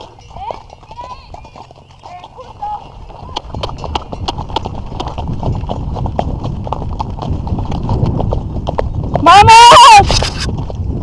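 Horse hooves clip-clop steadily through a trail ride on a heavy mare, a rhythmic near clatter that runs throughout, with people talking and a loud shout near the end.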